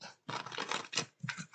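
Stiff cards of a large Guardian Angel Messages tarot deck are shuffled in several close, dry riffling bursts, a short pause splitting the first run from a final quick flurry.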